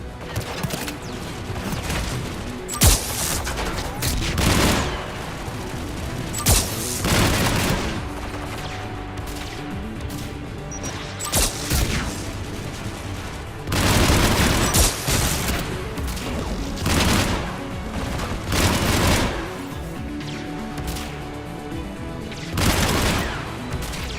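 Gunfire rattles through a battle in the video game Mass Effect 3: repeated loud volleys and sharp single shots, some rapid automatic bursts, recurring in waves with short pauses across the whole stretch.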